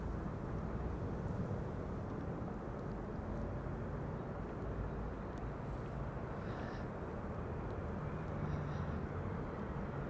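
A Delta Airlines Airbus A330 arriving at Amsterdam Schiphol, heard as a constant distant low jet rumble with broadband roar and no clear peaks, faint and steady over the whole span.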